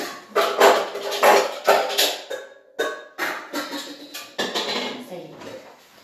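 Pesto is scraped and transferred into a bowl with repeated clinks and clatters of a utensil against dishware, close and fairly loud, in quick irregular bursts.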